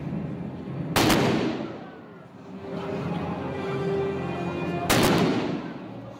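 Two sharp, loud blasts like explosive gunfire ring out about four seconds apart at an outdoor Western stage show at Elspe Festival. A rumbling, echoing stage ambience fills the gap between them.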